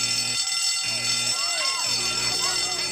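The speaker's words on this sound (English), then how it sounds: "Hey, that's the fire alarm." A fire alarm rings loudly in pulsing bursts with a shrill electronic tone, while voices and other noises sound underneath, in an episode of The Simpsons.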